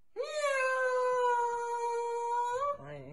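A person imitates a cat with one long, drawn-out meow that holds a steady, slightly rising tone for over two seconds, then breaks off into a short, lower vocal sound.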